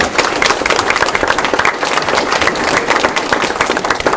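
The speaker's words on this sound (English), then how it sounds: "I think we should give them a round of applause." A hall full of people applauds trainees, dense sustained clapping from many hands filling the room steadily, loud and close, with no voices over it.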